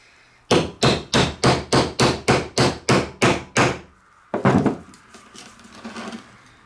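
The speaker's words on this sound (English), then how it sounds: "then we'll hammer this back the other way" A U-joint clip is hammered into place with ten loud, evenly spaced metallic strikes, followed after a short pause by a few quicker, irregular taps and a fading clatter.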